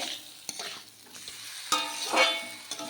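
Spices sautéed with shrimp and flat beans in a pan, a close sizzle punctuated by repeated clattering spatula strokes and scrapes, with a brief brighter crackle midway.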